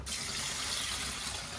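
Water pours steadily into a pot of freshly washed lentils, a close, continuous splashing gush that runs alone without pause.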